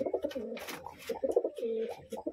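Pigeons of a Biskits Colour breed kept in a loft, cooing close up in soft repeated throaty phrases, with no voices.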